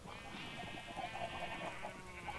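Sheep bleating in the Minecraft video game, a few quavering bleats close by over low background sound, with no talking.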